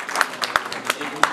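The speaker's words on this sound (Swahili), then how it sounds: "Makofi kwa hawa." A few separate claps at a church fundraiser, about four sharp hits spread unevenly over a steady murmur of background voices.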